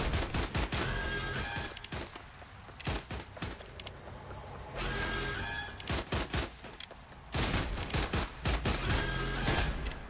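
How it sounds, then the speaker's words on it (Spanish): Rapid video game gunfire in a boss fight, dense bursts of automatic shots and fusillades coming in waves with brief pauses, loud and close, with almost no talking. "Es que me siguen disparando los cabrones, tío."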